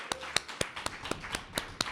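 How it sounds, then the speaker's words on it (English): A small audience at a poetry open mic claps in a sparse, distinct rhythm, about nine sharp nearby claps spaced evenly over a couple of seconds, with no voices. "For Catherine, let's get another round of applause."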